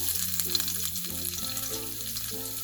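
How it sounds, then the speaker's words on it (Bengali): Three or four garlic cloves frying in a little oil, a close, steady sizzle with a few light clinks of a spoon against the pan. "রসুনটাকে একটু হালকা করে ভেজে দেব"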